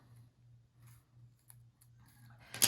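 Scissors snip a delicate, still-attached piece of a fall-colored craft project, a sharp close cut near the end after quiet handling and soft rustling.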